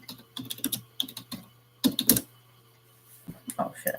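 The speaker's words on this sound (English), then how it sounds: "I was typing nothing this whole time" Computer keyboard typing during an online tarot reading session: scattered bursts of close key clicks, quick clusters separated by pauses, moderately loud with faint background hum and occasional speech-like sounds.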